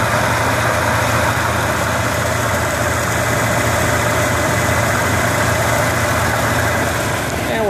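A 1979 Chevrolet Corvette engine idles steadily with a constant low rumble and mechanical drone, close and loud throughout, with no talking.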